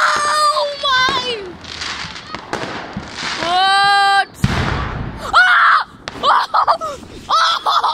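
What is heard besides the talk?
fireworks exploding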